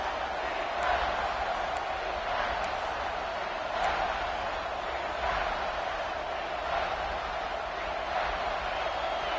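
A stadium crowd in a football video game keeps up a steady, distant roar and murmur throughout, broad and even with slight swells, with no voices rising above it.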